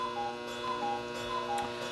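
A cuckoo clock movement on a repair bench ticks steadily and close up, with a crisp, regular tick-tock beat running throughout and no voices.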